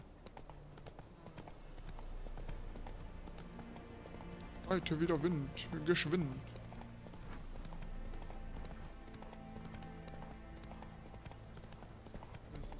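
Steady rhythmic hoofbeats of a galloping horse in The Witcher 3 run throughout, with a brief whinny in the middle and someone talking over it.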